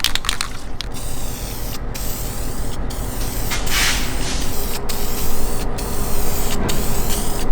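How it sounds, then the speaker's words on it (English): Steady spray paint hissing close by on car taillights, a continuous spray broken by several brief pauses between passes. "Now we gotta wipe them down, and I guess we could just spray them."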